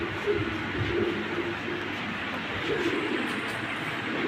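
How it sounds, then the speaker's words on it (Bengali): Lahori pigeons coo in low, rolling murmurs against a steady background hum, with several overlapping calls heard close by throughout. "এই দেখেন এক জোড়া লাহোরি, এটা কি কবুতর সবাই কমেন্টসে জানাবেন"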